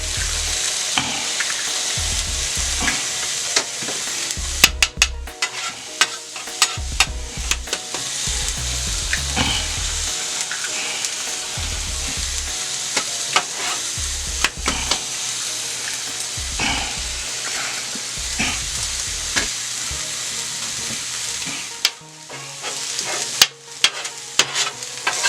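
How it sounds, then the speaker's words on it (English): Egg frying on a Steelmade hibachi flat-top grill for fried rice, a steady loud sizzle with repeated scraping and stirring clatter from a spatula, continuous and close. "I'm going to go ahead and throw my egg on here for my fried rice."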